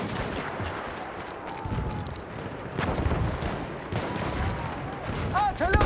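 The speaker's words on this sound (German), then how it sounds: "Artillerie!" Artillery barrage in the Battlefield 1 Argonne Forest map, heavy booms and scattered gunfire rumbling continuously under the battle din, with occasional louder blasts and shouting voices in the background.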